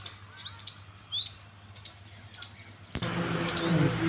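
Birds chirp at a bird feeding house near a temple, giving short, sharp tweets and rising whistles scattered over a quiet outdoor background. Near the end a louder broadband rush of noise covers them.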